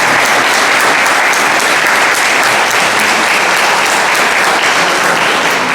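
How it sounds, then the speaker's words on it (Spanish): An audience at a law conference on amparo principles applauds loudly and steadily, a dense close clapping that carries through the whole stretch without talk. "a quien damos un fuerte y caluroso aplauso"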